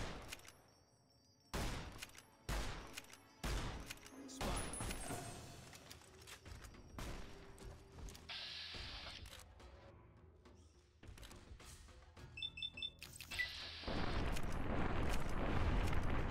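Heavy anti-materiel rifle fire aimed at a Deathclaw in Fallout New Vegas: several sharp, loud single booms are spaced apart with quieter gaps and echoing tails, followed by a denser burst of noise near the end.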